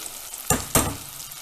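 Freshly harvested new potatoes with skins on frying in a pan, two short scraping stir bursts over a steady low sizzle, close and alone.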